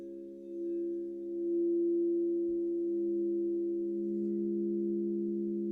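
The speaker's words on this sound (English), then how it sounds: "I hope that you guys enjoyed another beautiful crystal alchemy sound bath." Crystal singing bowls played in a sound bath, a steady, pure sustained tone with layered humming pitches that swell gently and hold evenly, no voices over it.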